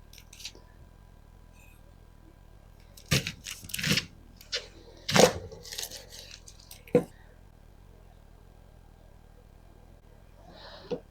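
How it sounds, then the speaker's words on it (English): A knife cuts through an onion on a board in a few sparse, irregular strokes with quiet pauses between them, close and clear, with no talking. "I cut small pieces this way from the root end to the stem"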